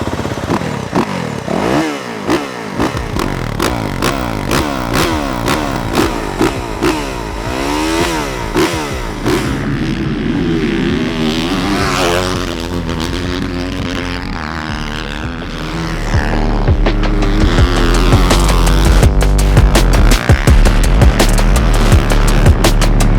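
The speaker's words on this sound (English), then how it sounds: "good times riding the YZ450F today at Glen Helen Raceway" A 2024 Yamaha YZ450F motocross bike ridden at Glen Helen Raceway, its engine revving up and down in loud sweeping pitch changes, then settling into a steady, louder drone toward the end.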